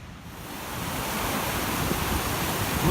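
A river flowing along a trail, a broad, steady rushing wash of water that grows slightly louder and nearer, with no voices.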